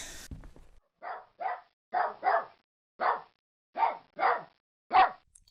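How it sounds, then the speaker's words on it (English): A dog barks eight times in short, evenly spaced, sharp bursts with silence between them, close and clear, after a brief noisy opening. "That's her bark when she smells danger."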